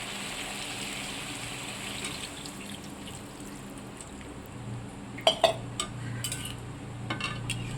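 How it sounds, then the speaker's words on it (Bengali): Water runs and splashes into a cooking pot of village-style potato curry (aloo dum), a soft steady gush with a few metal clinks near the end. "এবার এতে পরিমাণ মতন জল ঢেলে দেবো"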